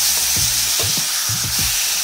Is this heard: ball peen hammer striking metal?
no